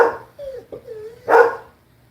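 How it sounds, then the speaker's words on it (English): Indoor black and yellow Labrador retrievers barking and whining, a few separate close barks with a whimpering yelp between them. "I have a black lab Sabachi and a yellow lab Sadie"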